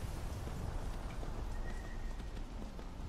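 A horse in the video game Skyrim clip-clops steadily beneath a dense wash of game ambience, its hoofbeats muffled and continuous, with no voice over it.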